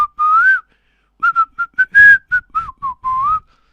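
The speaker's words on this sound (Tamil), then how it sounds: "தலைவன் வந்து என்ன மாதிரி விசில் அடிச்சுக்கிட்டு இருக்கிறான்னா வந்து குத்து பாடல்கள்" A man whistles a lively Tamil kuthu song tune alone, a short held phrase followed by a run of quick, clipped notes after a brief pause.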